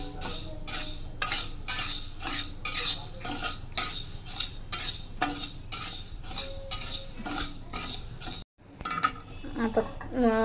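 Fenugreek seeds dry-roast in a pan while a metal spoon stirs them, giving rhythmic clinking scrapes at an even pace and a faint sizzle underneath, then a short pause and a few final clatters.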